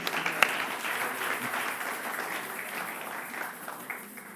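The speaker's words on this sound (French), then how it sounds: "Est-ce qu'on peut pas acclamer le Seigneur?" A church congregation applauds to acclaim the Lord, a sustained patter of many hands clapping at moderate distance, with one sharper clap standing out near the start before the applause gradually thins.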